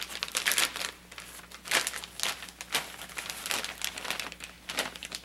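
Crinkly packaging of a sterile Foley catheter kit being opened by hand, with close, irregular bursts of crackling plastic and paper rustle, fairly quiet and without talk.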